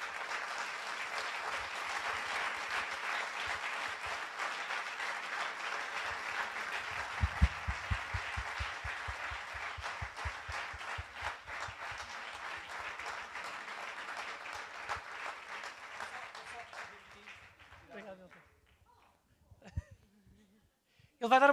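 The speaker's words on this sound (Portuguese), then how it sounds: "uma salva de palmas para os dois." Audience at a panel discussion event applauds two departing speakers, a steady sustained wash of clapping that fades out near the end, with some voices and a brief loud burst at the close.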